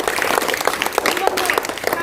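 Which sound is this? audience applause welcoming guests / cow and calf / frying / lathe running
audience applause welcoming guests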